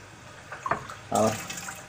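A short splash of water pours briefly onto rice, close by, with a soft trickle that quickly fades.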